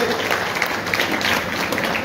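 Audience applause at a Hindi humorous poetry gathering of the Kshatriya Mahasabha in Aligarh, Uttar Pradesh: dense, steady clapping from a crowd that holds at an even level for the whole stretch.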